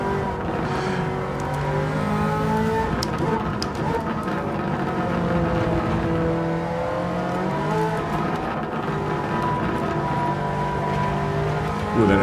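Honda NSX race car in Gran Turismo 7, its engine droning and revving steadily with gear-change sweeps throughout, loud and continuous with no talking.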